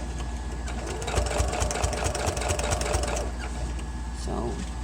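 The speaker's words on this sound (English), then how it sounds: "You sew close to your pin or wherever you feel comfortable, and you take your pin out." A sewing machine stitches pleats into a fabric face mask, whirring in rapid mechanical bursts for about three seconds, then stopping, with a softer short run of stitching near the end.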